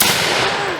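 A single loud, booming musket shot fired in a historical demonstration at the Yorktown museum, a dense blast that fills the short moment and rolls off slowly.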